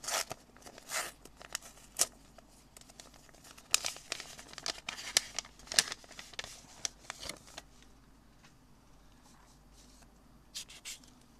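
A paper mail envelope being carefully opened by hand, soft crinkling, rustling and small tearing bursts in irregular clusters, close and quiet, ending in near silence with a few final rustles.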